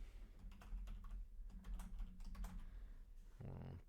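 Fingers tap out a password on a computer keyboard, a quick run of soft, close keystrokes with a brief pause before a final heavier press.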